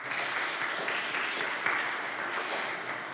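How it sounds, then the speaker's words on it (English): Sustained applause from a conference audience at a hacker and maker gathering, a thick even wash of many hands clapping without pause or talk over it. "I would like you to give them all an applause"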